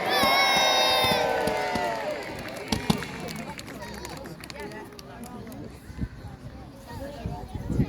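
A crowd at a miniature boat battle show in Scarborough, with children among them, cheers loudly on cue, then the cheering breaks into scattered shouts, whoops and chatter as people talk nearby.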